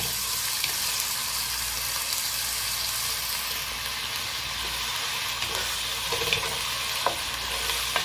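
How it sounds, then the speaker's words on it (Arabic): Meat frying in a spoonful of ghee in a pan for a Syrian purslane dish, a steady close sizzle and hiss with occasional stirring clicks and spatters, no talking. "طبعا أنا حطيت معلقة سمنة وهلا عم قلي اللحمة."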